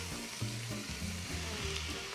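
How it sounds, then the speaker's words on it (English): Garlic seasoned with salt and pepper stirred in a hot frying pan, a steady close sizzle with soft scraping strokes running throughout. "We're going to stir that around"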